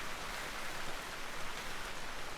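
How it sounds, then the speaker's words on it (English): Steady rain falls in the modded survival game Vintage Story, a dense, even hiss of droplets with no pauses, filling the scene on its own without any voices. "Once we get out of May, the rain will slow down a little bit. It's just been non-stop."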